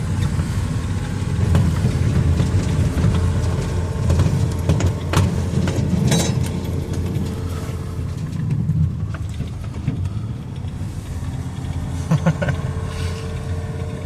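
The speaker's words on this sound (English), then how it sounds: "Idling a little high, so boy, she wants to get up and go." A 1985 Chevrolet Suburban engine idling a little high on a cold day, a steady low rumble close by with a few sharp clicks and knocks over it, no voices.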